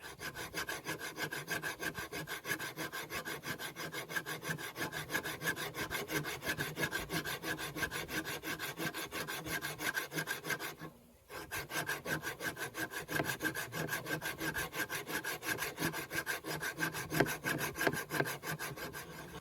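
A hand file rasps steadily back and forth across a knife blade while flattening its flat grind, a dense, even rhythm of rapid strokes continuing close up, broken by one brief pause midway.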